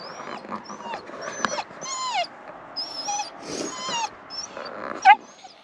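Dog whimpering, a series of high, wavering whines and squeaky cries close by, broken by short breathy sounds, ending with a sharper yelp.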